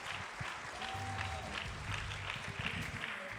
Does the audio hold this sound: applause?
yes